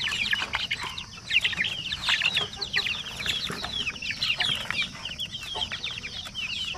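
A flock of 45-day-old chicks clucking and peeping busily while being fed, with many overlapping chirps at a steady rate close by over a low background rumble.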